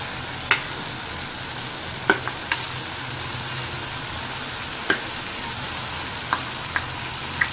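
Black chickpeas frying in a hot pan for a no-onion, no-garlic curry, with a steady sizzle and occasional sharp clinks and scrapes of a spoon stirring, close and continuous.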